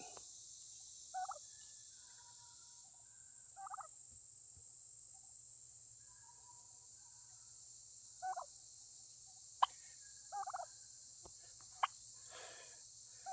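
Several turkeys on a homestead gobble in short, rattling bursts from a moderate distance, the calls repeating every few seconds over a steady background of crickets.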